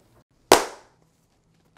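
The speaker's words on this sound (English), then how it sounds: "that sound you're hearing, I mean, outside of the initial claps," A single sharp hand clap in an untreated room rings out with a short reverberant tail, and a second clap begins just at the end.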